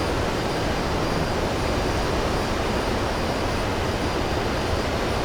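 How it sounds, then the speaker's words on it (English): F-14 Tomcat jet engines with afterburners lit during a carrier takeoff climb in Microsoft Flight Simulator, a loud, steady, dense roar that holds unbroken and close throughout, with no talking over it. "Now we'll just keep the afterburners in until we're through 300 knots."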